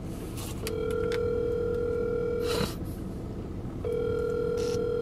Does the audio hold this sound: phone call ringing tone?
yes